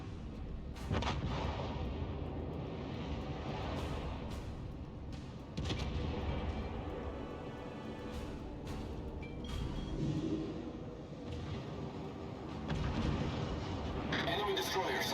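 Naval guns firing high-explosive shells in a warship battle game, sounding as repeated deep, rumbling booms spread across the stretch under continuous engine and battle noise.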